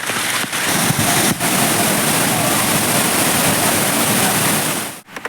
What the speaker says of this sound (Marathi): जबरदस्त असा वॉटरफॉल